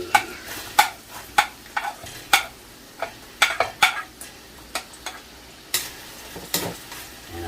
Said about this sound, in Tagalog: Lalagyan na natin itong onion